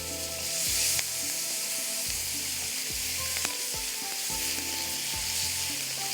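Garlic frying lightly in butter and oil: a loud, continuous hiss of sizzling with occasional soft stirring taps, close and steady throughout, no voices.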